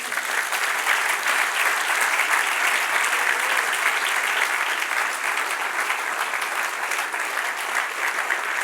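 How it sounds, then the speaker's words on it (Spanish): Congregation in a Spanish-language church applauding, a full and even wash of clapping that stays dense and steady for the whole stretch. "Dale un aplauso al Señor."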